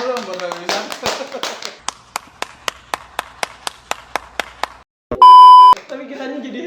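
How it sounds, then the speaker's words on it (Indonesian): Hands clapping in a short, evenly spaced run of sharp claps after a burst of talk, followed by a loud electronic beep and more voices. "Tepuk tangan dong lu buat Raja Wisata."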